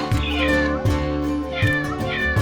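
Cats meow in several drawn-out calls, close and clear, one after another with no talk over them.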